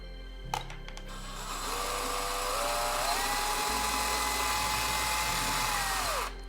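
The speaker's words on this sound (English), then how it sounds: "We're gonna drill a hole in the dashboard." A power drill whirs steadily, rising in pitch as it bores a pilot hole through a thin wooden dashboard panel of a model plane, then winds down; a few clicks before it starts.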